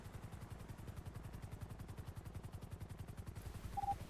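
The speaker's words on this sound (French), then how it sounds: "il y a un hélicoptère SAM qui vient de se poser sur la prise d'otage là" Helicopter in a video game, a hostage-taking scene, its rotor beating in a steady fast rhythm with a low engine drone throughout, close and constant, no talk.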